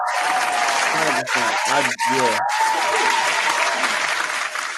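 Applause on a music mixshow broadcast, a sustained wash of clapping with a voice speaking briefly over it partway through.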